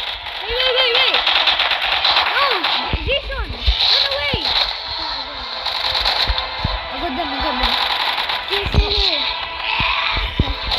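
Rapid gunfire from a gun in a Roblox zombie game: steady bursts of quick shots running under excited talk from several players throughout.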